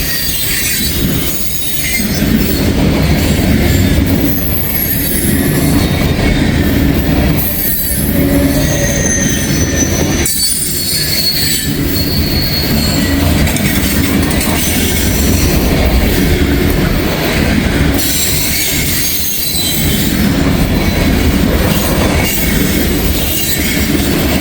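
A Norfolk Southern ballast train rolls past in Walton, loud and steady throughout, with continuous rumble, clattering railcars and repeated high wheel squeals rising above the noise.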